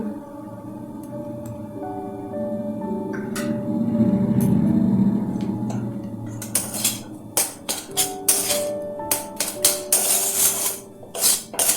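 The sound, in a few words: stirring roasted spice mix in a pan for vada pav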